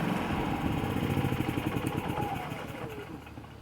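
A Predator 3500 generator runs in eco mode with a steady mid-pitched engine drone that rises and falls slightly, close by and continuous for a few seconds.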